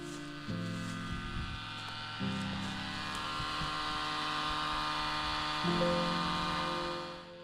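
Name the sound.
shallow well pump running, needing rebuild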